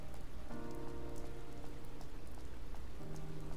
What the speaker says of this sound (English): She's just gonna be standing up here in the rain.